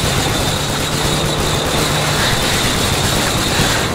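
A helicopter in the video game Call of Duty Modern Warfare 3 gives a steady, loud rotor and engine drone that holds evenly for the whole stretch with no pauses.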